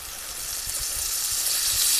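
Chicken frying in a pan gives a steady, fairly loud sizzle that holds even throughout, with faint low stirring or bubbling beneath and no talk.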